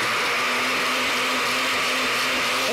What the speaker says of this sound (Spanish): Voy a agregarle un poquito de caldo para que se pueda licuar de una forma más óptima